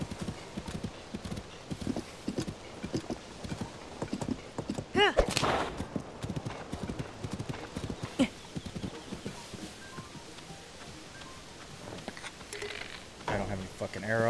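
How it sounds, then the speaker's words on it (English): Horse from Zelda: Tears of the Kingdom trotting with steady clip-clop hoofbeats and a loud whinny near the middle, heard under ongoing talk. "I completely forgot about this horse."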